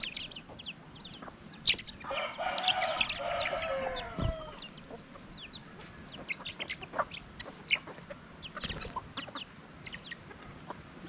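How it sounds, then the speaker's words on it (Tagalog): Farm chickens cluck outdoors in scattered bursts, with a rooster crowing once early on and other birds calling faintly in the background. "Yung mga manok namin, oh, nasa labas yung iba."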